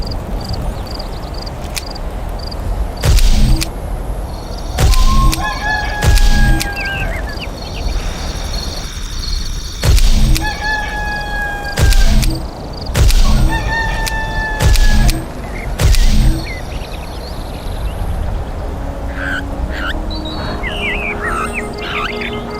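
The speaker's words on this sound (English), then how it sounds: "Roosters always crow when the sun comes up." A rooster in the god game Black & White 2 crows again and again in loud, evenly spaced bursts, each call rising and falling, over a steady ambient game background with no talking.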